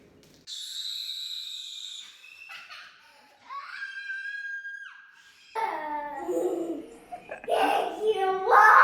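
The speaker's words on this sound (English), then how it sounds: "Go ahead. Scream your little hearts out." Children shriek and squeal with excitement, high-pitched cries rising and falling in bursts, some giggles mixed in, growing louder and more chaotic toward the end.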